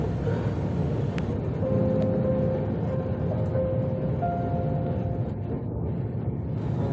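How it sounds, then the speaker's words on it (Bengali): Passenger train rolling across the new Jamuna rail bridge in Bangladesh, a steady heavy rumble heard from inside the carriage with faint tonal whines and occasional clicks, no talking. "মাত্র 4 মিনিটে আমরা কিন্তু পাড়ি দিয়ে ফেললাম নতুন রেল ব্রিজের মাধ্যমে যমুনা নদীটি"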